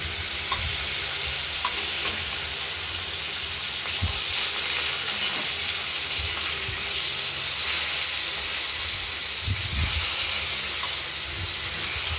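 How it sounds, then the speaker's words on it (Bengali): Large cut pieces of katla fish fry in hot oil with a steady, loud sizzle and hiss, broken by occasional soft pops and stirring knocks, with no voices. "আরেকটু ভেজে নেব।"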